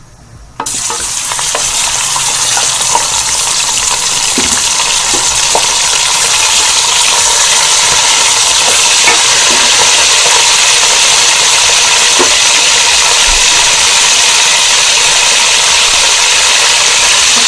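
Chicken pieces frying in hot oil for a pulao: a loud, continuous close sizzle that starts abruptly as the meat goes in, with faint stirring clatter and no talking.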